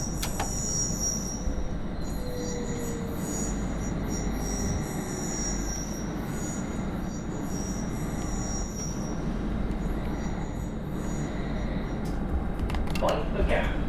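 Metropolitan Line underground train in Train Simulator Classic accelerating along a platform, a steady loud rumble of wheels and motors with faint squeals throughout, with someone talking over it.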